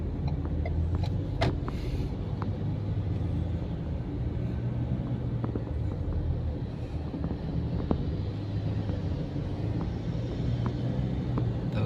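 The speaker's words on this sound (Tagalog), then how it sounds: "traffic na ito." Southbound highway traffic at midday, heard from inside a vehicle as a steady low rumble of engines and road noise, continuous and even throughout with faint wind noise and no talking.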